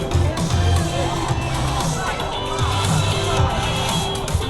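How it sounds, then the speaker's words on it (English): A dense crowd of people gathered outside a shop at Siam Square in Bangkok at night, producing a steady, loud babble of many overlapping voices with occasional shouts throughout. "Oh, look at the crowd."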